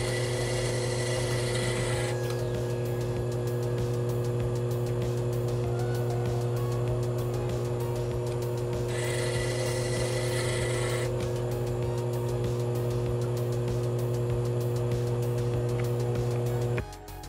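A faceting machine's 600 lap grinds corner facets on an emerald-cut gemstone: a steady motor hum runs throughout, with brighter scratchy grinding passages coming and going.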